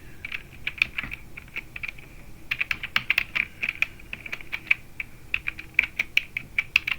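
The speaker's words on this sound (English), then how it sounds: "I can just type in what's her name, Gail King," Rapid bursts of computer keyboard typing, close and clear, with short pauses between runs of keystrokes and no voice.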